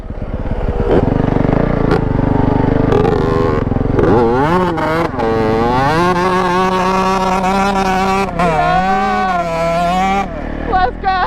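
A Yamaha YZ125 two-stroke supermoto revs hard and continuously off-road, its pitch sweeping up and down as the rear wheel spins, loud and close throughout the clip.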